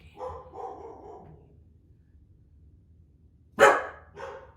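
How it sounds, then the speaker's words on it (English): A dog barks a few times at a distance, then a sharper, louder bark rings out followed by one more, with quiet in between. "barking"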